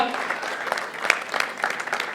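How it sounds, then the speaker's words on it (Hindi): Applause from an audience after a faculty and student drama club play, a steady wash of clapping hands throughout with scattered louder claps, fairly close and filling the room. "एक बार फिर से जोरदार तालियां हो जाए"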